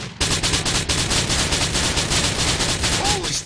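Rapid sustained automatic gunfire during a Grand Theft Auto IV shootout, dense overlapping bursts of shots fired continuously and loudly at close range with no break.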